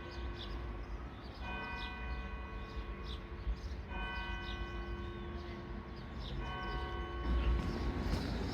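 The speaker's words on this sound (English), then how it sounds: "There's the clock chiming 11." A large clock bell chimes 11 o'clock in slow, evenly spaced strokes with long ringing overtones, heard at a distance over steady outdoor rumble in a Teignmouth street.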